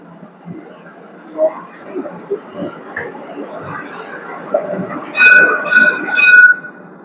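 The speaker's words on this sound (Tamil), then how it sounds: "பாருங்க ட்ராம் வந்துட்டு இருக்கு" A Dubai tram approaches with a low rolling rumble, then sounds a series of short, high electronic chimes; people talk quietly nearby.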